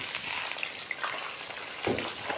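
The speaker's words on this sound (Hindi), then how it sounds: "सबसे पहले हम ये आलूओं को फ्राई करेंगे" Cut potatoes fry in hot oil over medium heat, giving a steady bright sizzle with small crackles and one louder spatter near the end, with no talking.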